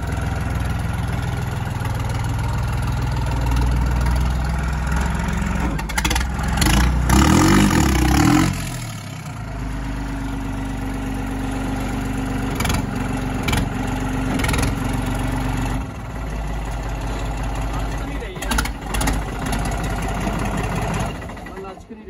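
A New Holland tractor engine idles with a steady low rumble, briefly revving and surging near the middle before settling back, heard close and loud with people talking nearby.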